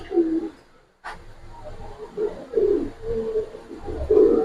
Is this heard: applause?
no